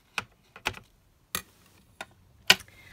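Paper being trimmed for a craft project, a handful of sharp isolated snips and clicks spaced irregularly in a quiet room, the last one loudest.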